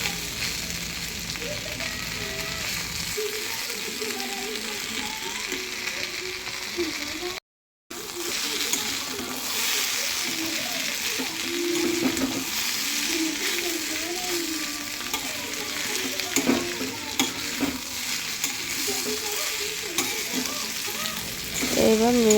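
Potatoes frying in a pan with turmeric are stirred, giving a steady close sizzle with scraping and stirring noises throughout, with a brief gap partway and a voice talking at times over the cooking.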